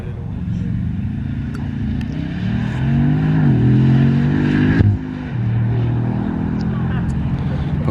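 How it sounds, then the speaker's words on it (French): A Bugatti Chiron at full throttle on an airport runway, a loud rising engine roar that climbs in pitch, drops sharply at a shift, then pulls again, with voices audible beneath. "Une Bugatti à plein gaz comme ça, c'est vraiment quelque chose."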